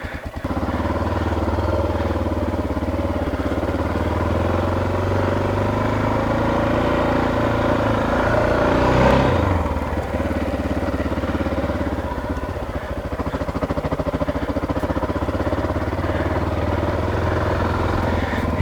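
Honda XR600R motorcycle engine running steadily nearby, a loud continuous mid-pitched drone with slight rises and dips in revs, no voices.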